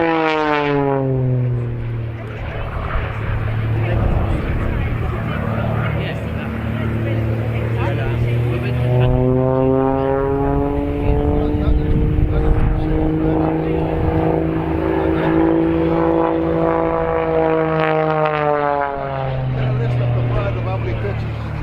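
An Extra aerobatic propeller plane sweeps past at an airshow, its engine drone rising and falling in pitch as it passes and climbs, with a commentator talking over the steady roar throughout.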